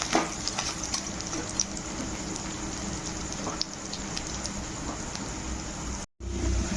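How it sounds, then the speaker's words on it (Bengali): Chopped onions fry in hot oil for a fish curry, giving a steady, even sizzle with faint stirring scrapes. There is no talk. "দেখো এখানে পেঁয়াজটা লাল লাল করে ভেজে নিচ্ছি।"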